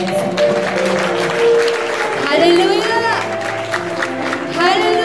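Applause and cheering fill a church service, with the crowd clapping under loud shouting and singing voices throughout.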